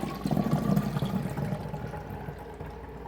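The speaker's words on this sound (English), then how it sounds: "we're going to slowly pour that through" Cultured buttermilk is poured slowly through a strainer, a soft liquid splashing and trickling that is strongest at first and then gradually thins out, with no talking.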